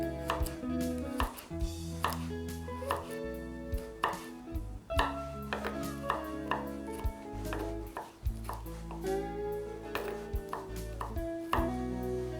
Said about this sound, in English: now we have the garlic and the onions chopped and minced up